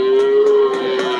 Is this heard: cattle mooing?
yes